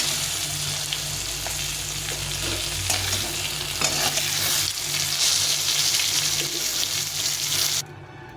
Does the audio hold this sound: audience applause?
no